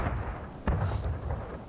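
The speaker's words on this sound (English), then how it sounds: "This is a 12-pounder cannon." A 12-pounder cannon fires once in the Civil War video game War of Rights, giving one sharp, heavy boom that rolls into a rumbling tail over steady low background noise.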